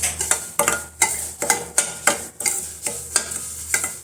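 Semolina being stirred and roasted dry in a pan, a spoon scraping in steady rhythmic strokes about twice a second, close and clear with a faint sizzle beneath.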